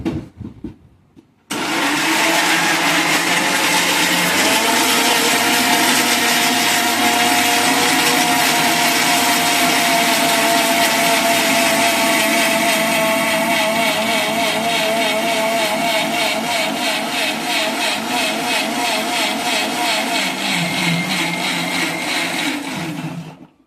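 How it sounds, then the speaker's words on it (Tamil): After a brief quiet moment, a blender whirs to life grinding milk and a few ice cubes for a milkshake, its loud motor roaring steadily for about twenty seconds before cutting off, with no talking. "கொஞ்சமா ஐஸ் கியூப்ஸ், 4-5 ஐஸ் கியூப்ஸ் போட்டுட்டு நல்லா மசிக்க அரைச்சிக்கலாம்."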